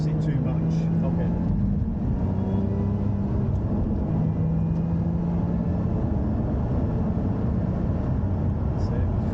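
A Lotus Emira's engine lapping the Thruxton race circuit, a steady low droning hum heard from inside the car with little change in pitch, while someone talks over it throughout.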